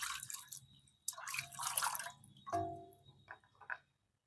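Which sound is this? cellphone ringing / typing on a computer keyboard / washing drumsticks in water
washing drumsticks in water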